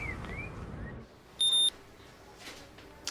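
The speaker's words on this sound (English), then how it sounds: "Sorry, but it just keeps beeping." A single short electronic beep rings out, high and thin, after a stretch of low rumbling background.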